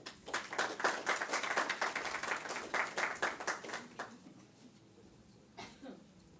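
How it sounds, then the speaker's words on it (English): An audience at a health exhibition and conference in Oman applauds a speaker, giving steady, moderately distant clapping that thins out and fades to a few scattered claps. "Please welcome him with a round of applause."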